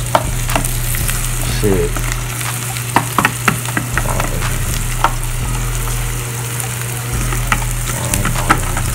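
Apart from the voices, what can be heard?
onions caramelizing in a pan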